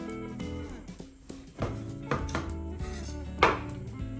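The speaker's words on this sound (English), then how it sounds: "And I'm also going to cut off the stem part." A knife cuts the stem off a butternut squash on a cutting board, producing a few close, sharp chopping knocks and clatter amid low background hum, with no talking.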